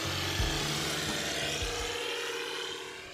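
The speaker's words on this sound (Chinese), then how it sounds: "现在我身旁的这架飞机已经准备完毕了，马上就要起飞，出发" A small aircraft at Longxing general airport in Chongqing's Liangjiang New Area runs up for takeoff, a loud steady engine and propeller roar filling the scene, with a few low thumps early on and the drone easing slightly toward the end.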